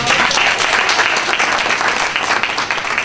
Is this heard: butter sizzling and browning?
no